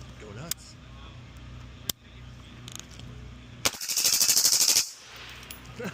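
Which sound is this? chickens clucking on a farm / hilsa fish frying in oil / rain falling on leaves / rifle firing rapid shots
rifle firing rapid shots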